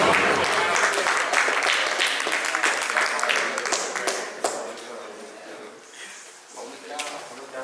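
A rap battle audience claps and cheers, loud at first and gradually thinning out, with voices calling over the applause.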